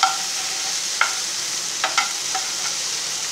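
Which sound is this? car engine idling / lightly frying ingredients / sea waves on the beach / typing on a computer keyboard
lightly frying ingredients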